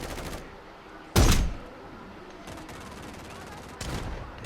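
Sniper rifle shots ring out in the shooter game Farlight 84, one loud close blast followed by two softer reports, over a steady background of game noise.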